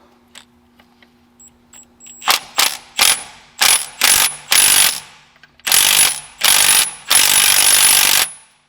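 Ratchet wrench tightening the damper pulley bolt on a TorqStorm supercharger setup, a series of loud close clicking bursts in quick strokes, the last one longer, after a quiet start.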